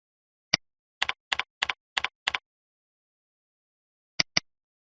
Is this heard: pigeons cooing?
no